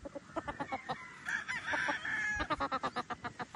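Chickens and broodstags cluck in quick rhythmic bursts nearby, with a rooster's crow breaking through in the middle before the clucking resumes.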